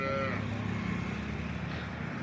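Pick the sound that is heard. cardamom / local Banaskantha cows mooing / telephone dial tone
local Banaskantha cows mooing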